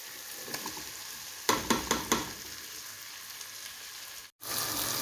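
Onions browning in a pan with a soft, fairly quiet background sizzle, broken by a short burst of several sharp stirring scrapes partway through, then a brief dropout before the frying hiss returns; no one talks.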